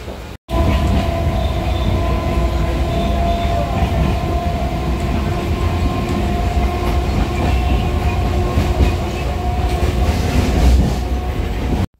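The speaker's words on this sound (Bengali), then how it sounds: "তো পাশ দিয়ে বয়ে গেল আরেকটা ট্রেন" A Lalgola train rumbles past close by, its steady roar and rattling wheels filling the whole stretch with a continuous, loud clatter.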